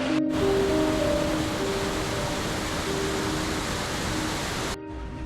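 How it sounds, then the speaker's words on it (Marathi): A large monsoon waterfall near Pune, the Varasgaon falls, produces a loud, steady rushing roar of falling water, close and continuous, with faint tonal hums underneath before it drops off abruptly at the end. "खूप मोठा धबधबा आहे."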